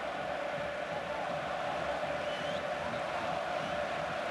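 A large football stadium crowd at a 2010 Schalke versus Bochum match roars steadily, a dense, continuous wash of massed voices with no clear peaks, heard from within the stands.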